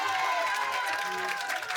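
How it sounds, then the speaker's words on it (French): A crowd of friends gathered in southwest France applauds and cheers for a man named Fredo at a house-renovation celebration, a steady dense wash of clapping and voices throughout. "Je vous demandais d'applaudir très fort Fredo pour tout le boulot qui s'est démené"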